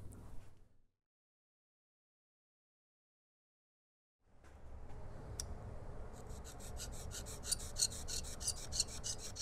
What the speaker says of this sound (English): Scrape carefully to not damage the case or mating surfaces, and don't let foreign material into the diff